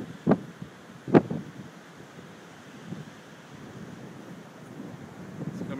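Strong wind during a blizzard in Fairbanks, Alaska, blowing at about 25 miles an hour, with a low, rushing roar and two sharp gusts buffeting the microphone early on.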